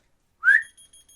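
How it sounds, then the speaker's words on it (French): A person gives one short rising whistle, and a small key finder answers with a faint series of rapid electronic beeps, close and quiet. "Logiquement, il faut siffler pour pouvoir retrouver ça."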